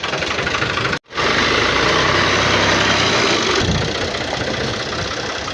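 A tractor engine idles close by on a farm with a steady, knocking chug, briefly cut off near the start after being started, then running evenly.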